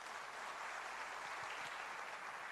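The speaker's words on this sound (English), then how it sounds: "Can we have a big round of applause for all our panelists here?" Audience at a climate policy technical session applauds its panelists, producing a steady, even patter of many hands clapping that sounds somewhat distant and quiet and continues throughout with no voices.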